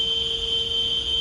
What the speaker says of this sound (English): We got a vacuum cleaner